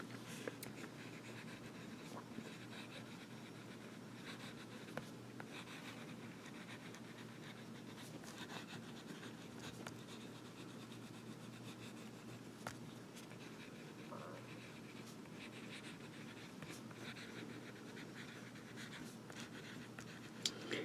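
Hero 9315 fountain pen with a dry, hard nib writing on paper: faint, close scratching in short repeated strokes, some pressed harder than others, with a quiet voice now and then.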